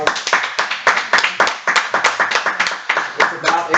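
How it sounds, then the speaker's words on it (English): After a panel discussion on free-market energy, a small audience claps briskly in distinct, rhythmic hand claps heard close by, with voices talking over the clapping. "Let's give them a round of applause."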